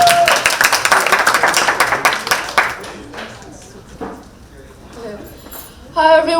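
An audience at a book launch claps in a dense burst that fades over about three seconds. A lone clap follows, then quiet room tone before voices resume.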